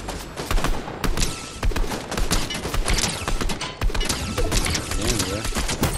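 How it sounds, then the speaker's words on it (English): Rapid enemy gunfire in Fortnite, a dense stream of loud, close shots with overlapping bursts running continuously. "Oh my god, he's shooting at me."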